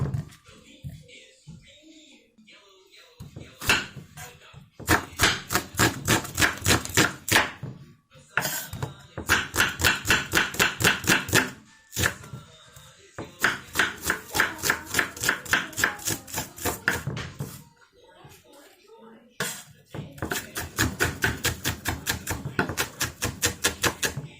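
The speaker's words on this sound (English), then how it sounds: "let me get my seasoning cut up" Seasoning chopped for saltfish fritter batter, rapid rhythmic knife strikes on a cutting board in several long bursts separated by short pauses, close and loud, with a voice speaking in the gaps.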